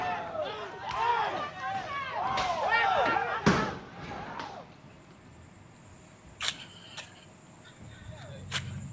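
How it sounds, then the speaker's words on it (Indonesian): Stones hit the door of a police station in Jeneponto during an attack by a crowd. Loud shouting voices come first, then a heavy slam. After that come a few sharp, isolated knocks and bangs in quieter surroundings. "penyerangan oleh sejumlah orang tak dikenal menggunakan lemparan batu juga merusak pintu"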